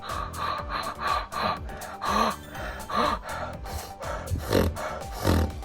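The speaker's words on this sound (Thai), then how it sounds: "คือการดูดลมนะฮะก็คือดูดผ่านช่องปาก" Repeated sharp breaths drawn in through the mouth for beatbox, several gasping inhales in a row, close and fairly loud.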